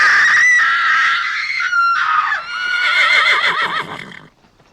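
A person's voice imitates a horse, giving a loud, shrill whinny with a wavering, descending trill that fades out at the end.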